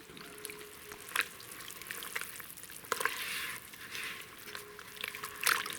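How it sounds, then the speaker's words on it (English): LimeLike powder stirred into water and fixative, a wet swishing and scraping with a few louder sloshing strokes at irregular intervals, close and fairly quiet with no talk. "I'm going to stir that up."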